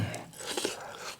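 Close, quiet chewing of spicy crab meat, with a few soft crunching bites and moist mouth sounds over a second.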